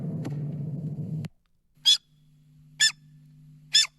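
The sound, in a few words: voice imitating otter sounds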